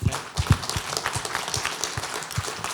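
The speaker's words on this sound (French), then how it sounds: "je voudrais les applaudir" A small crowd applauds steadily for a few seconds at a press innovation awards event, scattered claps at a moderate level with no voices over it.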